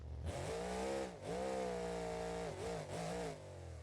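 A car motor in a racing game revs hard, its loud, buzzing engine note climbing and holding high, then dropping briefly between two more sustained revs that fall off at the end.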